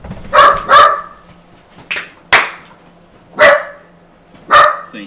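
A dog barks loudly and close by, five or six sharp separate barks spaced irregularly, some in quick pairs, with no talking over them.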